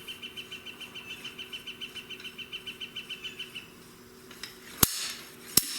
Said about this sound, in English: Pull them out straight up, so I'm going to get my slide hammer.